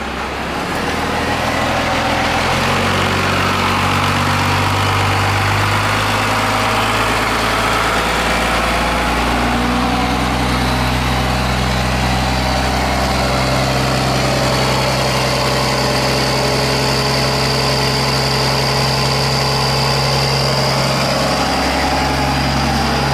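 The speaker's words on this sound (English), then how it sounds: "I'm gonna bring the idle up there" A Cummins diesel engine in a custom Boss Hoss van idles loudly and close, then is raised to a higher idle: a steady, heavy low drone throughout with no talking.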